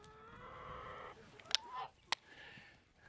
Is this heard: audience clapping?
no